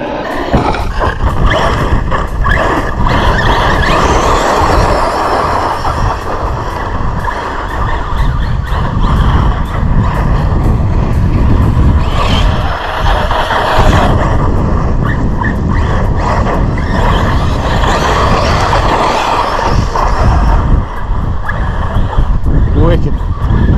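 A Team Corally Jambo RC buggy with a 1720 kV motor tears around nearby, its whining electric motor surging and fading over continuous gritty roar from the tires, with talk mixed in.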